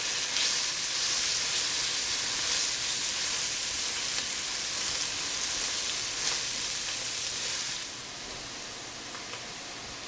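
Garlic sizzles in a hot pan while it is stirred, a steady, loud, close frying hiss that runs unbroken for several seconds before dropping slightly in level near the end.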